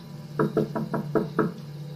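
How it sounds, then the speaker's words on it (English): Six evenly spaced knocks on a house window in an animated horror story, crisp, close and steady in rhythm, with nothing else heard around them. "I turned around when I heard a knock at the window of the house."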